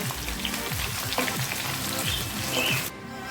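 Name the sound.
shallots sautéing in a pan for Kerala beef curry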